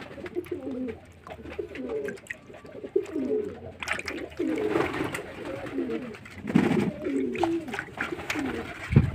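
A female Phulsira pigeon coos in repeated soft, throaty phrases close by, with some rustling and light background noise between the calls.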